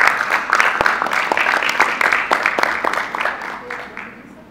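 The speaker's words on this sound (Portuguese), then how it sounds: "Palmas para ele." An audience at a cultural event on modern art and theatre claps in a moderate burst that gradually tapers off and grows fainter toward the end.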